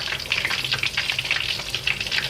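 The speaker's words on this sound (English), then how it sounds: "egg roll, you have to deep fry twice, not one time" Lao egg rolls deep-fry in hot oil during their second frying, giving a dense, close bubbling sizzle with fine crackles that carries on steadily with no voices.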